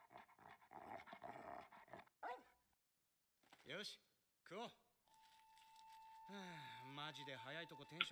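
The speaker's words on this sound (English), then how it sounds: "God dang dog." A dog pants in a Hunter x Hunter anime episode, with short breathy bursts and occasional barks mixed under frequent overlapping talk.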